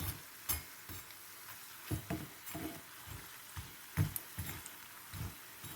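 Vada frying in hot oil: soft, steady sizzling and bubbling, with rhythmic light thumps and stirring noises throughout.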